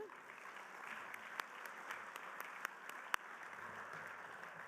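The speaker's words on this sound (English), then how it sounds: "Let's give all of our sponsors a big round of applause." Steady applause from an audience at a business luncheon, a continuous patter of many hands clapping at moderate volume with a few sharper claps standing out.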